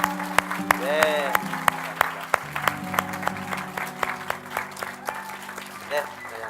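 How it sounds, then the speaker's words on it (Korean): A church congregation claps during a service, a spread of scattered handclaps heard under a sustained musical tone, with someone talking over it at times. "우리 뜨거운 박수로 축복해 드리도록 하겠습니다"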